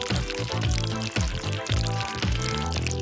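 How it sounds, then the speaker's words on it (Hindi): Glue pours into a cute silicone heart mold, a continuous liquid flow with a few soft pulses as each heart cavity fills, close and fairly loud with no talking. "ये प्यारा सा हार्ट मोल्ड इस्तेमाल करेंगे और हार्ट्स में ग्लू डालेंगे"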